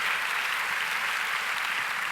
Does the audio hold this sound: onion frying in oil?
no